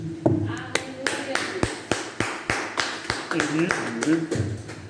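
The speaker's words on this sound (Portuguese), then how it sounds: "Vamos bater uma rica salva de palmas para Jesus." Rhythmic clapping from a church congregation applauding Jesus, with sharp, evenly spaced claps running for several seconds under voices.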